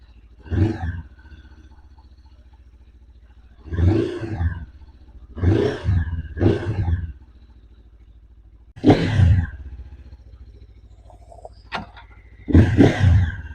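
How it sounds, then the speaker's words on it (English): A Lifan KPT 400 motorcycle engine running close by, a low idle punctuated by about seven loud throttle blips that roar up and drop back, with no speech. "So I'll let it idle for 5 minutes and then I'll go ride it around."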